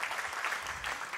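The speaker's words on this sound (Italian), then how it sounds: "Applauso calorosissimo, è inutile sottolinearlo, che viene pure ripetuto" Warm audience applause at a national literary prize ceremony, a steady dense wash of many hands clapping at close range.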